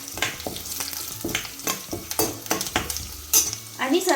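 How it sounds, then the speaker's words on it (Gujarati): Asafoetida and red chili crackle and sizzle in hot oil for a Kathiyawadi dhokli curry. A spoon scrapes the pan in regular, close strokes over the steady frying hiss. "તતડવાનો અવાજ આવી રહ્યો છે, ફ્રેગ્રન્સ પણ આવવા માંડી છે."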